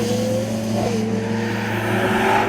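A Ferrari 12Cilindri with a 6.5-litre naturally aspirated V12 roars loudly from inside the car, its pitch climbing under acceleration, briefly dropping with a gear change, then rising again in a smooth, sustained howl.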